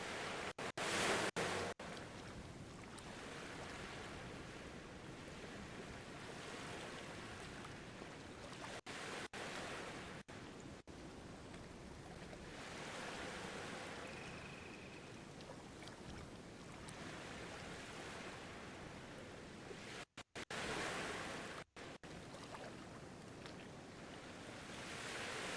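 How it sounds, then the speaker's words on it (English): Ocean surf washing steadily in the game Voyagers of Nera, a broad continuous rush of waves with wind noise, fairly loud and unbroken apart from a few brief dropouts. "The sound of the ocean makes me go."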